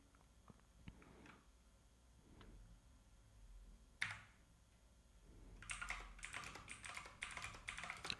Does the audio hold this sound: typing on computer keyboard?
yes